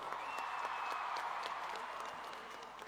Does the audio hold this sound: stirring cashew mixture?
no